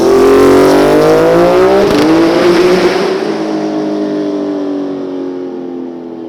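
A Porsche race car on the Bahrain F1 circuit, its engine loud and close as it accelerates past with a rising, then falling roar that fades into the distance, with no talking.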